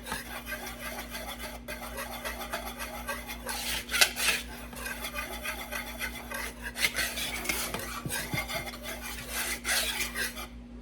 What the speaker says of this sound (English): I have 1 3/4 cups of flour, 1 cup of cocoa powder, some baking soda and salt, and I'm just gonna whisk those together.